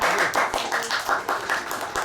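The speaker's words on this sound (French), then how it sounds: "Oh, applaudis, toi." A child claps hands at a baptism celebration, a steady run of roughly eight close, fairly loud claps in even rhythm, with faint voices murmuring underneath.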